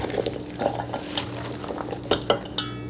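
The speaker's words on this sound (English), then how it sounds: "I'm going to give that a stir before I add my other seasonings" Diced potatoes and raisins stirred in a pot for a home-canned chicken curry, with soft wet shuffling and a few sharp clinks of the spoon against the metal rim near the end.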